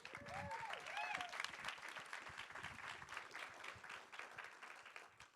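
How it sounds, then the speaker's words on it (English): Conference audience applauding a steering committee at a SXSW EDU session, a sustained, even patter of many hands clapping, fairly faint and distant, with a voice briefly calling out near the start. "I want everyone to give them a round of applause"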